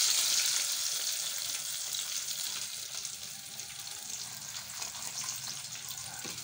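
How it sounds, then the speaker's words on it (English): A steady, dense hiss of fish and chips frying in hot oil continues throughout, crackling close by with no voices. "Now I'm done with frying."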